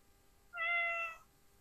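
A single short electronic meow, clear and tonal, from a Chongker robotic toy cat against near silence.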